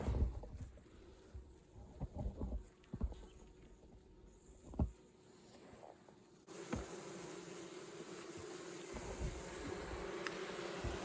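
Honeybees packed into a winter hive of two boxes hum as a soft, steady drone, with scattered knocks and handling bumps on top and a brief wind rush midway.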